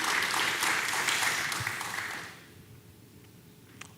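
An audience claps and cheers at the Games for Change Festival, a dense burst of applause for about two seconds that then thins out into scattered claps and fades to quiet room noise.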